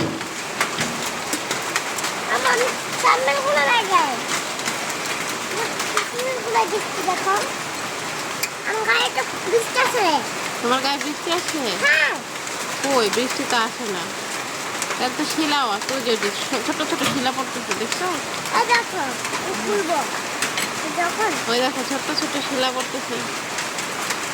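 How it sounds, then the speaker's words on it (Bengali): A hailstorm pelts down in a steady dense patter of small hailstones and rain on surfaces, continuous and fairly loud, with voices talking and exclaiming over it throughout. "ওই যে শিলা বৃষ্টি দেখো"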